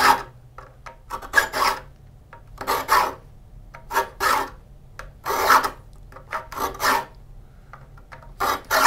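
A hand saw being sharpened with a file, heard as bursts of rasping strokes in uneven groups, each a short scraping push against the teeth, close and fairly loud, with quiet pauses between.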